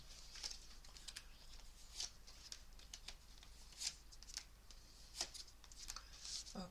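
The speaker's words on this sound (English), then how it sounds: "I feel like I want to keep shuffling" Tarot cards are shuffled softly in a quiet room, faint riffling and tapping with several crisper snaps of the deck at irregular intervals.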